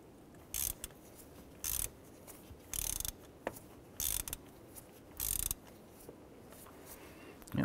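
A ratchet on the camshaft sensor bolt of a 2011-2018 RAM 1500 clicks in short, regular bursts, about six close, crisp spells of ratcheting separated by brief pauses.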